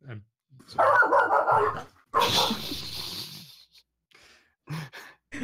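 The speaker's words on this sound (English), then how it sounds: "A wild dog charges in." A wild dog barks in loud, rapid bursts at a tabletop Dungeons and Dragons game, a sharp volley followed by a second harsh outburst, then scattered short yelps and faint whimpers trailing off.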